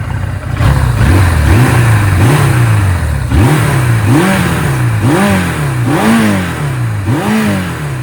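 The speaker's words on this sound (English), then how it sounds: "if I give it full throttle off the rip," A 1979 Suzuki GS750 motorcycle engine revs repeatedly at full throttle, with about seven rising and falling surges in steady rhythm, loud and close, and no talking.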